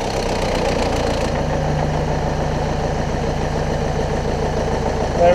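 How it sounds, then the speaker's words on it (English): Ford Galaxy 2.0 TDCi diesel engine idling steadily just after an oil service, a continuous close mechanical rumble with a faint knocking texture throughout and no voices. "Now we're gonna start the engine,"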